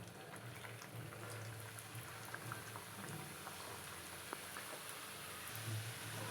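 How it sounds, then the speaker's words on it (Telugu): Samosas deep frying in hot oil over a medium flame, a faint, continuous bubbling fizz with tiny pops scattered throughout, steady and without talk. "మనం ముందుగానే రెడీ చేసి పెట్టుకున్న సమోసాలను ఇందులో వేసి డీప్ ఫ్రై చేసుకోవాలి"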